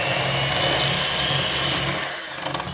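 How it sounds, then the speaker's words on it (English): Steady electric hand mixer whirring as it creams sugar for pineapple upside-down cake batter, a constant close motor hum that fades slightly near the end. "we will cream these together with a hand mixer"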